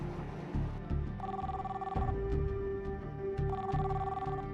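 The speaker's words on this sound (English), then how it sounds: "Tom keeps trying her cell phone" A cell phone ringing on a highway drive, with two electronic ring bursts rising over a steady background hum, moderately faint, with no one speaking.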